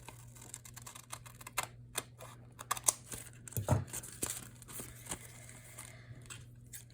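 Scissors trimming excess paper from a junk mail envelope, a close run of small crisp snips and paper crinkles, scattered irregularly and fairly quiet, with no talking.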